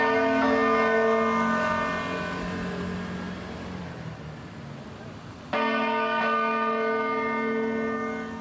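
A church bell tolling in the village of Nembro, Italy, its deep ringing tone sustained and slowly fading before a fresh strike renews it, loud and resonant with a faint outdoor background.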